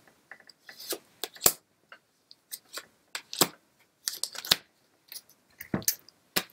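Neapolitan playing cards being handled and shuffled during a card reading, with sparse crisp clicks, snaps and riffles in short bursts separated by quiet gaps, close and alone.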